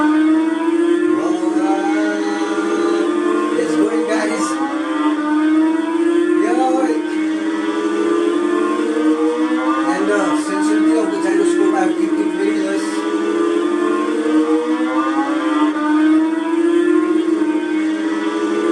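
Racing Moto motorcycle video game played on a Micromax TV with a remote's gyro control, a continuous droning engine whine that rises and falls in pitch, loud and steady throughout.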